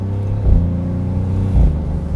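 A Maserati GranCabrio Trofeo twin-turbo V6 accelerating hard, its low engine roar broken by two quick upshifts, each with a blatty, flatulent crack, heard close with the top down.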